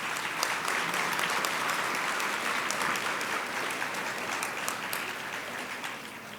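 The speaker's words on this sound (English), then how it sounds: "we should give him a round of applause for that." Audience at a governor's housing and economic development event applauding steadily for several seconds, a dense wash of claps fading slightly toward the end.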